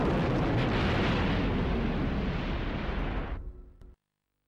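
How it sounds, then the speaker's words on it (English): Massive Death Star blast obliterating a Rebel planet in a Star Wars Battlefront video game, a loud sustained roaring explosion lasting about three seconds that cuts off abruptly into silence. "The Empire can use their secret base to unleash the awesome power of the Death Star and obliterate a Rebel planet completely"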